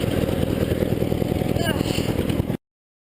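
A 1975 Sears Suburban ST16 lawn tractor engine idles with a steady, throbbing low chug, close and loud, before cutting off abruptly.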